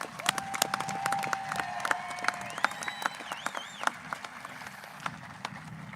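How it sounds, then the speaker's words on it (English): A graduation crowd applauds with dense, sharp clapping, cheers and whistles rising over it, building and then gradually thinning across several seconds. "let's give up another round of applause for them so they know."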